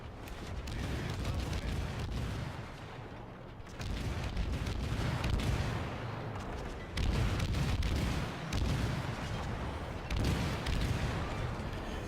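Rapid naval gunfire from a Fletcher-class destroyer in the World of Warships game, with dense repeated booming salvos rolling on continuously, loud and close, with brief dips between volleys.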